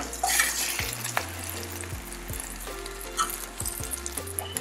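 Egg frying in hot oil with hot and pimento peppers, a steady crackling sizzle with a few soft clicks and knocks of a utensil against the pan, no voices.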